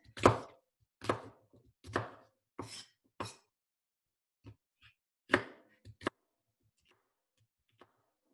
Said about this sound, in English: Then we're going to cut into thin slices and then into smaller pieces.